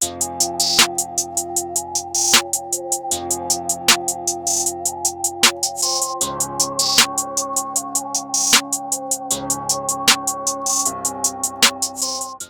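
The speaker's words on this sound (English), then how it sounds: "started out with the hi-hat and the snare, which sounds like this." A fast ticking hi-hat runs steadily with snare hits landing on a regular beat, over a sustained synth chord backing.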